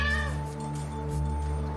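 A cat meows steadily in a long drawn-out cry, close and fairly loud, its voice holding a sustained harmonic wail with no talk over it.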